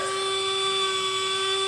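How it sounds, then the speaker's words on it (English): A Dremel rotary tool cuts into a container for a bird feeder, a loud steady high-pitched whine held without a break, close and alone. "So a little bit more Dremel"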